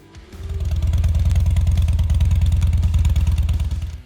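A Harley-Davidson Evolution 1,140 cc V-twin motorcycle engine starts and runs loud and close with a steady, lumpy pulsing beat for about four seconds, then cuts off.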